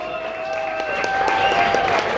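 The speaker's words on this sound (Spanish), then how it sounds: "Un aplauso a Juan, que nos rompió todo." Audience applause at a small live music show, clapping and crowd noise with sustained musical tones underneath, growing slightly louder toward the end.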